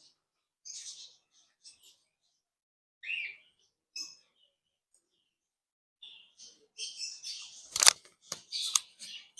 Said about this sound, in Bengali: এটা হচ্ছে গ্রে ককাটেল আর এটা হচ্ছে অ্যালবিনো ককাটেল